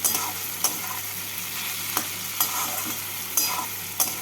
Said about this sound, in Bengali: কাজু কিশমিশগুলোকে একটু ভেজে নিচ্ছি